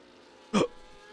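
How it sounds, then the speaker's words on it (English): A single short hiccup bursts out near the microphone, sharp and loud, then fades into quiet room noise. "Sorry, I got hiccups."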